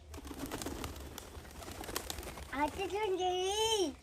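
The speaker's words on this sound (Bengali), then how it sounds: "পায়রাগুলো দেখতে দেখো কেমন।" Pigeons coo softly in a low, wavering call near the end, following a stretch of faint background chatter and rustling.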